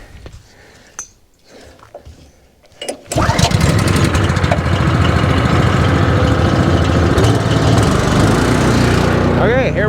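A small gasoline engine, choke on, is pulled to start and then catches, running loud and steady after a few quiet seconds of handling noises and brief talk.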